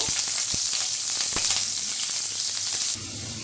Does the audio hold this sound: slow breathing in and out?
no